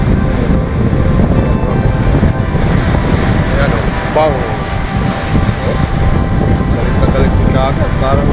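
Big ocean waves pound against seaside rocks in a loud, continuous roar of surf and rumbling water, with strong wind buffeting the microphone.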